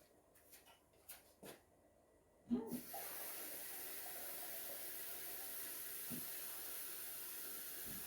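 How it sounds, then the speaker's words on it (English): Water runs from a kitchen tap into a cooking pot, starting abruptly after a few faint knocks and continuing as a steady, even hiss to the end. "I want to add a bit of water."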